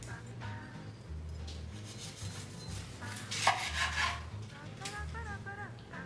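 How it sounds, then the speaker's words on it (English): A knife sawing through a cooked steak served with chimichurri, several close back-and-forth rubbing strokes with a louder scrape near the middle, with faint background voices. "it's time to cut into this thing and see how we did"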